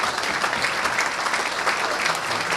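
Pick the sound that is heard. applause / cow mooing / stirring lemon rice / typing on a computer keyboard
applause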